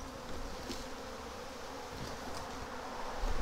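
A dense, steady hum of many bees flying around a swarm trap that they have occupied for too long. The buzz is close and continuous, with a few louder passes near the end and no voices.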